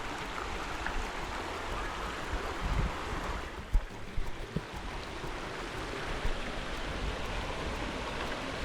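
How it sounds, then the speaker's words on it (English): A waterfall in an Australian rainforest, heard close by as a steady, dense rushing roar of falling water with a few soft bumps of wind or handling noise partway through, and no voices. "So we're close to the waterfall now."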